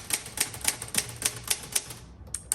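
A 1960s Olivetti-Underwood Studio 44 manual typewriter typing: about ten crisp, evenly spaced keystrokes clack up close at a brisk steady rhythm, then the typing pauses briefly before a couple of final strikes.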